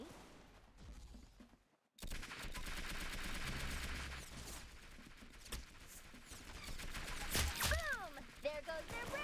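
Gunfire from the Roblox game Arsenal crackles in rapid bursts after a brief silence, dense repeated shots with swooping electronic effects near the end, a voice speaking over parts of it.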